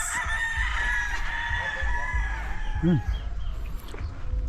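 Free-range gamecock roosters crowing in the distance on a farm, several drawn-out calls overlapping, over a low outdoor background rumble.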